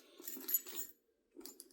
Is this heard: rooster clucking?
no